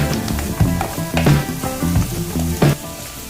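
Dried red chillies sizzling in hot oil in a pan during cooking of a chicken liver dish, a steady loud fry with occasional sharper crackles and stirring scrapes, no voices.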